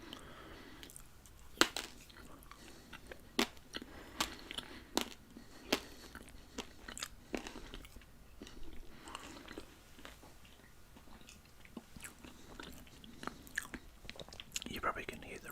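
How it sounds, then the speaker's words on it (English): Close, quiet crunching bites and chewing of fresh bread with margarine, with irregular sharp crackles, under soft breathing and faint murmured voice. "You probably can hear the real crunchy sound when I eat that."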